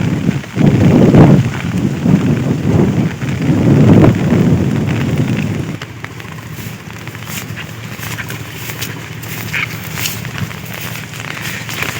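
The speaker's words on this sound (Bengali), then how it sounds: "আবার আইতেছে বৃষ্টি" Heavy rain pours during a storm in a Bangladeshi village, a dense, loud roar at first that eases to a lighter, steady patter with scattered drops hitting nearby surfaces.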